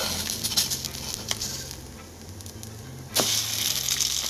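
Egg in a hole frying in butter in a pan as the second side crisps: a steady, close sizzle and crackle that swells briefly louder near the end.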